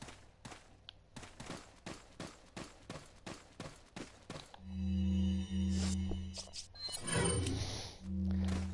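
Shotgun blasts in a video game fire roughly a dozen times in a quick, evenly spaced run. A loud, sustained roar and a rumbling game noise take over after the shots.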